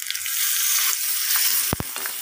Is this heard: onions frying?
yes